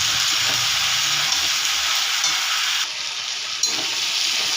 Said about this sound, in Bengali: কেটে রাখা সবজি